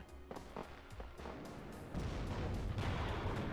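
T-72 tank cannon hits in a tank battle video game, heard as faint, distant thuds and booms that swell into a sustained rumble of impacts, with no talking.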